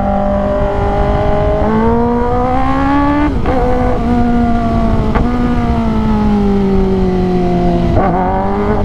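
A 2022 Kawasaki ZX10R sport motorcycle revving hard in first gear, its high engine whine climbing in long pulls with brief dips at each shift point, loud and close throughout.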